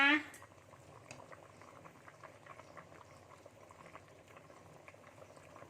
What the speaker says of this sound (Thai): น้ำแกงของเราก็เดือดแล้วนะคะ พอเราใส่หน่อไม้ลงไปเนี่ยย่าสต๊อปปล่อยให้เขาเดือดนะคะ เดือดเต็มที่แล้วนะคะ